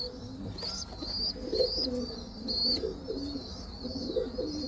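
Large breeder pigeons coo in soft repeated rolling phrases, fairly close and gentle, with faint chirps and background hiss and no talking.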